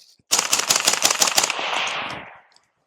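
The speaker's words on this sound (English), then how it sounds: "Let's go ahead and do some burst rounds, I guess you can say, just to get another feeling." A 5.56 rifle fitted with a Jaguar CAM556 MAX silencer fires a rapid burst of roughly a dozen suppressed shots in quick succession, loud and close, followed by a short fading tail.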